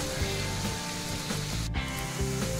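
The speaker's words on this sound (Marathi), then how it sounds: "मंद आचेवरती त्यांना तळून करायचं" Grated potato hash brown patties fry gently in oil on a low flame, a continuous soft sizzle running steadily beneath background music.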